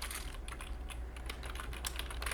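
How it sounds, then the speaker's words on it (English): Rapid, steady typing on a computer keyboard, soft close key clatter with a low hum beneath, no voice. "We're typing."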